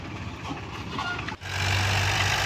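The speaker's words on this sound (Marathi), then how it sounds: "रवी ओचा ट्रॅक्टर रोटर मारण्यासाठी आलेला होता" A tractor running a rotavator across a farm field gives a dense, steady engine drone up close, dipping briefly before resuming even louder.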